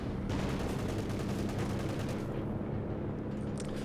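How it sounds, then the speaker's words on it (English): Calliope rocket artillery barrage in a World War II strategy game, a continuous dense roar of rapid rocket launches and explosions filling the whole stretch, loud and sustained. "Big Calliope barrage goes in, this time on the bunker and the pack in the west."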